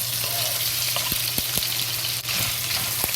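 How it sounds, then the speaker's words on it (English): Bacon fries in hot vegetable oil, a loud continuous sizzle and crackle with scattered sharp pops and occasional stirring clinks. "When the oil is hot, we add the bacon into the oil"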